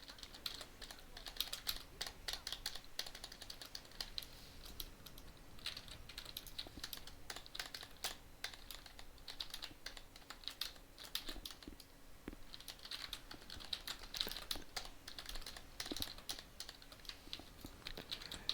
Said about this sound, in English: Goodness gracious, I spend my day sitting at this keyboard.